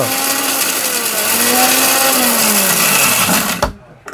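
A blender runs loudly at a steady whirring pitch that slowly drifts, then cuts off abruptly near the end, leaving a couple of short clunks.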